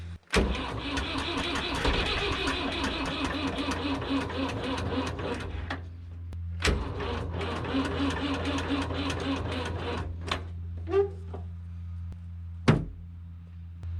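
A tractor engine on a cold winter farm cranks repeatedly, grinding and whirring in long attempts that stop and restart, with a sharp clunk between tries and no steady idle.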